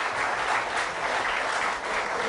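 Audience applause at a gathering honoring a singer, a continuous wash of many hands clapping, even and moderately loud with no talking over it.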